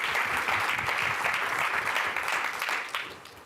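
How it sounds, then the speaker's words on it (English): Audience applause at the MIT $100K pitch competition 2022 for the preliminary judges, a brisk, fairly even round of clapping from a sizable crowd that fades near the end with no talking. "Let's give a round of applause to all the preliminary judges."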